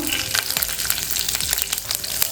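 Cumin seeds, urad dal and green chillies sizzle and crackle in hot oil for shevaya upma, a steady close-up frying hiss with small pops and spoon scraping.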